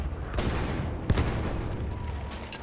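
Gunfire and a sharp blast from a grenade ring out in Battlefield 1 combat, with a rumbling crackle around a single loud impact near the middle of the brief burst.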